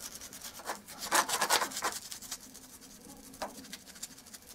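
Small paintbrush dragging paint along a wall near a boiler casing, a series of soft, close scratchy rubbing strokes, busiest in the first half and tapering to occasional lighter brushes.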